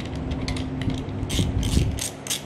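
A ratchet wrench cinching down bolts on an old Frigidaire Multicold compressor motor, quick rapid clicking bursts close by with a brief pause between strokes, no talking.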